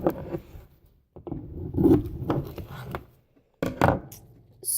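Hands knead and squeeze a homemade sock stress ball, making soft rubbing, scrunching bursts in an uneven rhythm, close and fairly loud, with short pauses between squeezes.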